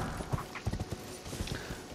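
A horse gallops in the video game Elden Ring, its hooves thudding in a steady, quick rhythm of muffled beats.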